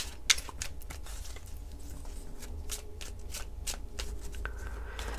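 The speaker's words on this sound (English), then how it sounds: "I'm not going to fast forward through my shuffling." Tarot cards shuffled by hand for a reading, a quiet close run of riffling and soft tapping bursts with no talk.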